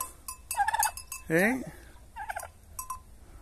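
A turkey lets out one loud, rattling gobble partway through, surrounded by shorter chirping calls, while someone speaks a brief word close by.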